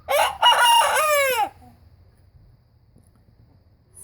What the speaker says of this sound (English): You have to expect that chickens will make some amount of noise